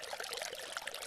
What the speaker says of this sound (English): you'll get that from dripping lots of little water through moss or from a number of rock locations in a waterfall